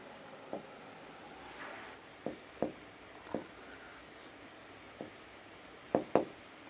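A pen scratches out notes by hand in short, quiet strokes and taps with pauses between them, close and soft.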